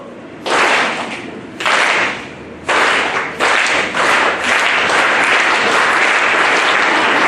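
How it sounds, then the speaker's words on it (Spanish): Audience at a conference talk on post-traumatic growth claps on cue in several sharp bursts that build into sustained, loud, close applause filling the room, with no talking. "Solo un aplauso."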